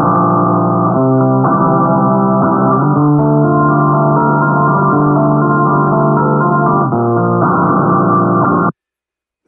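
Guitar strums resampled at a low 3150 Hz rate so the aliasing strips the bright highs, leaving a dull, band-limited run of chords lasting about nine seconds, alone and steady before stopping abruptly.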